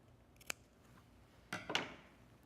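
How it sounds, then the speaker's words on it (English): Scissors snip through a dress zipper at a chalk mark: one sharp isolated click, then two quick close crunching cuts about a second later, near and crisp in a quiet room. "and snip the other side."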